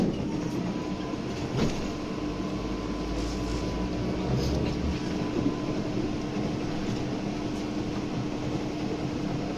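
Inside a BTZ-5201 trolleybus on route 1, a steady electric motor whine and rolling hum run under faint rattles and clunks from the cabin, with no one talking.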